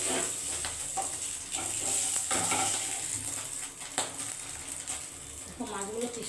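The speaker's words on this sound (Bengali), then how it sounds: "দেখো মাছগুলো কি সুন্দর ভাজা হয়ে গেছে।" Pieces of rohu fish fry in oil in a pan for a cumin curry. A moderate, steady sizzle runs under clinks of a utensil against the pan, and a voice speaks briefly near the end.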